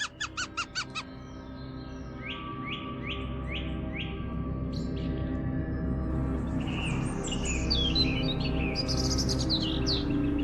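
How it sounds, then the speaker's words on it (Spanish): Several birds sing and chirp in a wild forest in Zambia, with repeated bright chirps and trills over a steady natural background hum, growing busier and more layered toward the end. "al compás del canto lejano de los pájaros"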